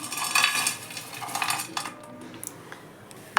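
Whole garam masala spices tipped into a pan make light clattering and rattling, a quick scatter of small hard pieces that settles into fainter ticks and taps.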